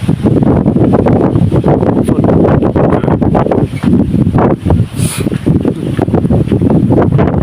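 Strong outdoor wind roars continuously across the microphone, loud and buffeting, around a tribal village, with no talk over it.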